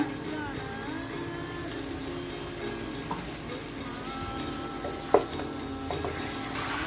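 Water poured into a pan of basil paneer green chilli chicken, a moderate steady sizzle and bubbling with a few clinks of a utensil, with no talking.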